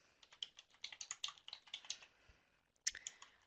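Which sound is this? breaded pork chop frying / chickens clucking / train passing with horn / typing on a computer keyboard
typing on a computer keyboard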